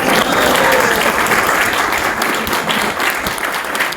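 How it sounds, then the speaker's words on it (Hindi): Loud, sustained applause from an audience at a ceremony in a press club hall, steady dense clapping filling the whole stretch with little voice. "इसके लिए जोरदार तालियां"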